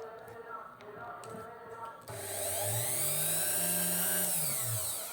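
A small electric drill whirs up to speed and runs steadily for a few seconds, its pitch wavering as it bores through a prayer bead, after quieter handling noises.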